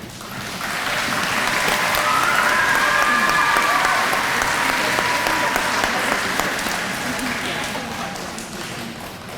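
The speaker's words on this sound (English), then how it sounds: "I hope you'll join me in giving them a round of applause, Miss Lisa Lennox Hayes and Miss Jennifer Ma" A crowd gives a full round of applause for two county commissioners at a public gathering, swelling into a broad, continuous wash of clapping that holds strongly before gradually thinning out.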